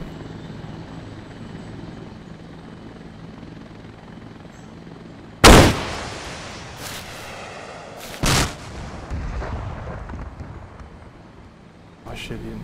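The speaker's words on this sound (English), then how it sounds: "Shoot him with the rocket." A rocket launcher fires in the Arma video game amid a steady helicopter drone, with a sharp loud blast followed by a second shorter bang a few seconds later.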